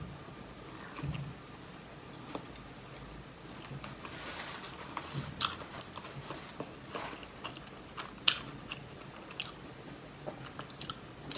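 Kuy chai chive dumplings are eaten as a snack, with faint, close chewing and occasional soft crunchy bites in a quiet room.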